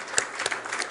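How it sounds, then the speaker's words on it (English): A short burst of scattered clapping from a small crowd, a few sharp claps standing out, lasting under a second. "let's give a round of applause"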